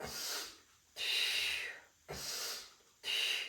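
Deep, audible breaths in and out through the nose during a stretching workout, four long even breaths alternating in a slow steady rhythm, close and alone with no talk.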